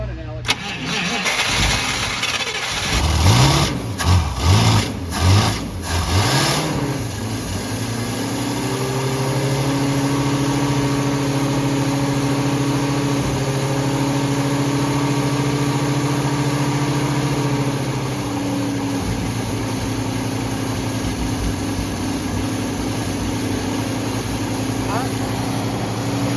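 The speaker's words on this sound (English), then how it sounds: "Gotta keep it running, Alex." A 1952 Buick Special barn find cranks over several times on starting fluid, then fires and settles into a steady, rough idle that holds for most of the clip, recorded close by in a garage.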